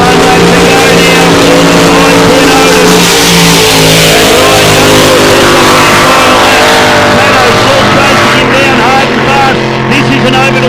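Race car engines roar around a track at the E C Griffith Cup, loud and close, revving and shifting pitch as the cars pass, while a commentator talks over the noise.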